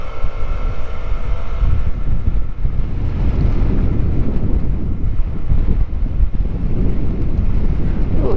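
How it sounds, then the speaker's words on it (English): Strong, steady wind buffeting a microphone while riding through suburban streets, a loud continuous rumbling roar with gusty low-end surges throughout and no pauses. "Ooh, it is so windy."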